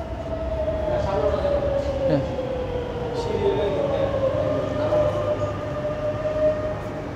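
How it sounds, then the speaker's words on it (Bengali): A driverless metro train pulls into a station in Italy, sending up a steady rumbling roar with a long high whine over it that holds close and loud throughout. "মেট্রো আসার শব্দ হইতেছে"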